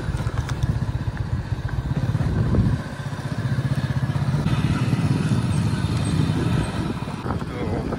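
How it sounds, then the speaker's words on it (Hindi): A motorcycle rides along rural farm roads in India, its engine droning steadily and loudly up close across the whole stretch, with rattling clatter and wind noise, but no clear talk over it. "सोनूर में चल पड़े मोटरसाइकिल पर"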